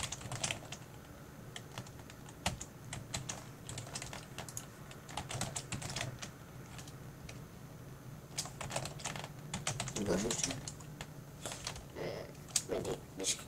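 Typing on a computer keyboard while setting up a YouTube account, a steady run of close key clicks in uneven bursts with a few louder strokes, and a voice talking at times over it.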